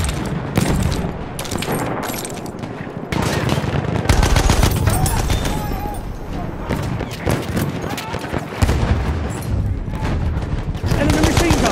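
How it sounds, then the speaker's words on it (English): Rapid machine gun bursts and scattered rifle shots crackle through a Battlefield 1 battle, loud and continuous for several seconds, with in-game voices calling out over the firefight. "Enemy machine gun sighted."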